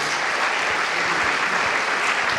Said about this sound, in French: J'aime bien, dans la salle, on peut applaudir